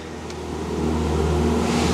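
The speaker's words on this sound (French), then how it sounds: "la voiture a démarré et on est sorti du parking" Aston Martin V12 Speedster engine idling steadily and building slightly in loudness as the car pulls out of a parking spot, a low continuous rumble with no talk.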